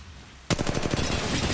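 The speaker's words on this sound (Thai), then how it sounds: "กำลังถูกยิงใส่" Rapid automatic gunfire in the video game Apex Legends Mobile bursts in suddenly after a quiet moment, with loud, close shots in a fast steady rhythm.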